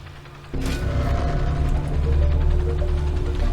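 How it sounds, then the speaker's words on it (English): Helicopter lifting off in the video game Wasteland 2, a loud rotor and engine roar that kicks in abruptly and holds steady, low and dense, with no voices over it. "As their helicopter rises above Ranger Citadel"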